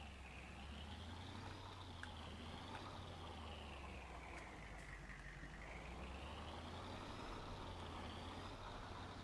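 A steady, continuous truck engine drone in Farming Simulator 19, with a low rumble throughout, its pitch slowly rising and falling, and no talking.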